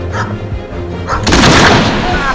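A cannon fires with a loud boom during a staged pirate cannon battle show at Rusty Scuppers in Westport, Washington, the blast rising over crowd noise and voices.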